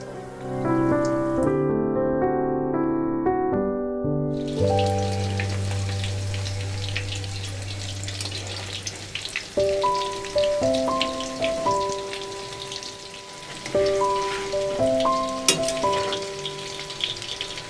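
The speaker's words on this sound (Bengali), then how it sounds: "আমরা ফিশ ফিঙ্গারটা মিডিয়াম টু লো আছে ভেজে নেব" Fish fingers fry in hot oil over medium-low heat with a patter of crackling like rain on a surface, running beneath prominent melodic music notes throughout.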